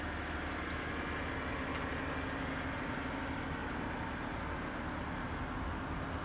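The engine of a 2007 BMW 328, running after a push-button start, holds a steady, even idle throughout, quiet and constant with no speech.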